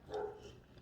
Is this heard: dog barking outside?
yes